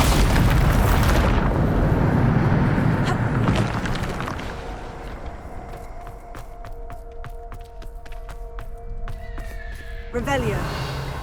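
The Bombarda explosion spell in the video game Hogwarts Legacy lands as a loud, broad blast that fades into a long rumbling decay, followed by scattered crackles and a later burst.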